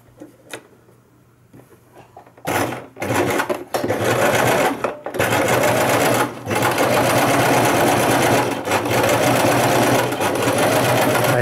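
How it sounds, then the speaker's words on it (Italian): A sewing machine stitches the side flap of a protective fabric face mask, running in loud, close bursts of fast whirring clatter with brief pauses, after a few quiet handling sounds. "Adesso stiamo cucendo una delle alette laterali."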